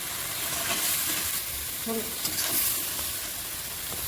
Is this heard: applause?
no